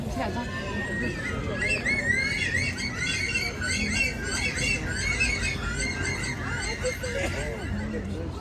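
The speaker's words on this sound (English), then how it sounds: "that incredible call is that of the bush stone curlew" A bush stone curlew gives a run of shrill, wailing calls, rising and falling over and over at a zoo's free-flight bird presentation, heard fairly close over a constant murmur of background noise.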